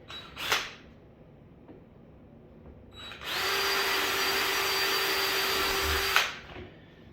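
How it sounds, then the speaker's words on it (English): A power drill bores holes for a cabinet drawer pull. A brief whir comes first, then after a pause a loud, steady high-pitched drilling runs for about three seconds up close, with no talking. "You got your holes drilled."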